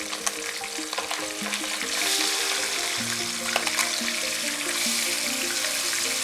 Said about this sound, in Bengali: হাই ফ্লেমে ভালো করে উল্টে পাল্টে ভেটকি মাছগুলোকে ফ্রাই করে নিতে হবে।